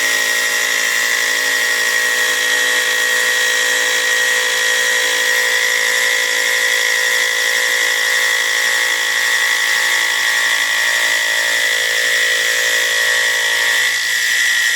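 Metal lathe turning a workpiece against a high-speed steel bit in a lathe holder, a steady high-pitched machine whine with a constant tonal hum running unbroken for the whole stretch, close and fairly loud, no talking.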